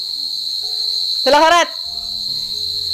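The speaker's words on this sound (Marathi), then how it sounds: "किती रातकिड्यांचा आवाज येतोय" Crickets chirp at night in a loud, continuous, high-pitched trill that runs unbroken throughout, while a voice briefly speaks over it partway through.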